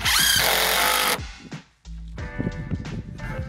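Power drill driving screws while finishing a house exterior, a loud steady whir for about a second, then short bursts of motor whine and clatter close by.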